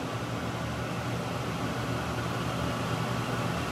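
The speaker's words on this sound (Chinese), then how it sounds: "我们要煎这个牛肉呢" Beef sears in very hot oil in a pan, giving a steady, dense sizzle that hisses evenly and without pause throughout.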